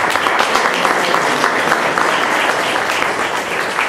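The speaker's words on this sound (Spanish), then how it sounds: "Demos un aplauso a los hermanos y hermanas indígenas." Sustained audience applause at the opening of a 2017 Indian theology symposium, honoring indigenous participants: dense, steady clapping from a large crowd, loud and continuous for the whole stretch with no talk over it.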